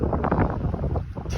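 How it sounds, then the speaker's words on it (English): Strong outdoor wind buffeting a microphone on a noisy, windy afternoon, a loud rumbling roar with gusty surges over a brief moment, no voices. "I think the wind's gonna blow my head off."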